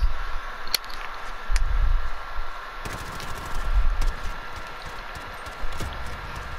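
Gunfire in a shooter video game, likely Call of Duty: sharp bursts and scattered rapid shots over a steady background hum, moderately loud.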